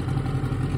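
A Mercury 7.5 hp outboard motor runs with a loud, close, steady mechanical drone and a rattly low-pitched chug, with no one talking.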